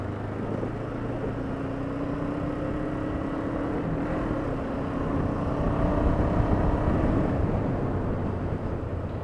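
A light motorcycle is ridden along, its engine droning steadily under heavy wind rush, with a low, continuous hum that swells slightly in the middle.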